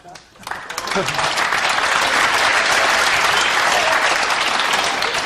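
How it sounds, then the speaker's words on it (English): Audience applause breaks out at a 2006 World Cup of Pool nine-ball doubles match after a combination shot, a dense, loud, sustained wash of clapping that swells within the first second and holds steady throughout. "The applause from the combination"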